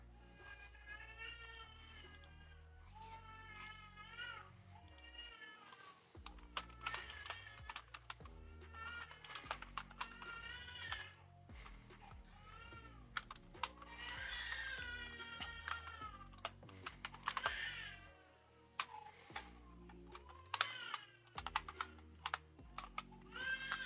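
Steady computer keyboard typing runs throughout, quiet clicks mixed with a cat's repeated meows and some background music, with no one talking.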